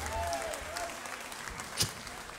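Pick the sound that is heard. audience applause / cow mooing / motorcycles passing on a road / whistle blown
audience applause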